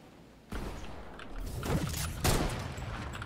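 Gunfire in the video game Fortnite starts abruptly after a quiet moment, a rapid volley of fairly faint shots with a heavier burst near the end, steady and mid-distance.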